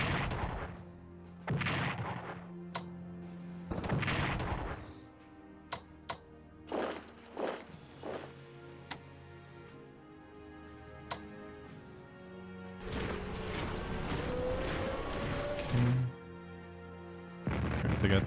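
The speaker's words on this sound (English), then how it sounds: "They got defensive artillery here." Defensive artillery in the World War II strategy game Strategic Command WWII: War in the Pacific: a series of heavy, separate blasts and booms at irregular intervals, with one long rumbling stretch near the end.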